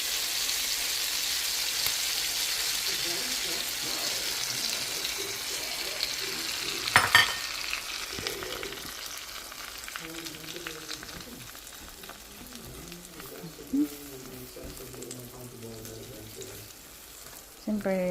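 Scrambled egg frying in a pan, a steady close hiss of sizzling oil with occasional stirring scrapes and a few clinks, a voice speaking faintly underneath.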